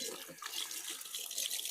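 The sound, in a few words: tap water running while rinsing hands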